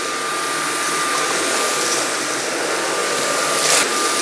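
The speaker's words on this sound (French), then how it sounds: "Je vais voir en mettant un mode un petit peu plus puissant, si jamais ça vient aspirer tout ça." A Jimmy PW11 Pro wet-dry stick vacuum running on a stronger suction mode gives a steady, loud, close motor whine with airy suction hiss, continuous throughout with no talk.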